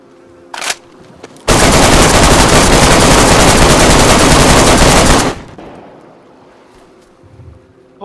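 Loud, sustained automatic gunfire during a guard raid in a video game, one dense unbroken burst of about four seconds after a short earlier crack, then fading into windy background noise.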